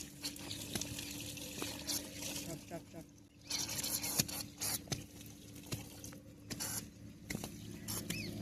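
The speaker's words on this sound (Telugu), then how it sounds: "వాటర్ అయితే పడుతున్నాం ఇప్పుడు" Water poured onto a miniature house build, a faint pattering trickle with scattered drips, low in level, with people talking over it.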